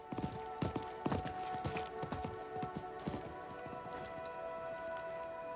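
Horse hooves from Diablo 4 clip-clop in a quick, uneven rhythm, fairly close, then fade to a steadier background hum.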